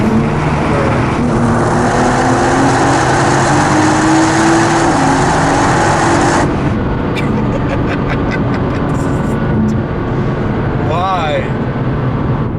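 A 2015 Nissan R35 GT-R engine drones loudly from inside the cabin, then changes pitch as the driver downshifts with the paddle shifters, with faint rising revs near the end.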